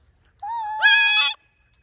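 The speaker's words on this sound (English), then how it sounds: "He likes to scream at birds, especially pigeons." A pet bird gives a short, loud, harsh scream outdoors in a forest, rising into a raspy squawk lasting under a second, alone against near silence.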